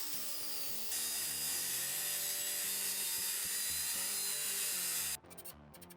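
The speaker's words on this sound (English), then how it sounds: "I transfer the measurements to the plywood and cut it with the skill saw" A circular skill saw rips through a plywood sheet in one loud, continuous cut lasting about four seconds, with its high whine ending abruptly, over a steady background.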